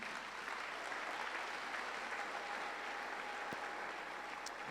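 A church congregation applauds for the Lord during a French-language sermon, dense continuous clapping filling the room at an even level with no speech over it.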